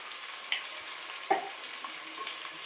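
Raw prawns stirred with salt, chili and turmeric masala in a hot pan, giving a steady soft sizzle with a few light scraping spoon strokes, close and moderately quiet.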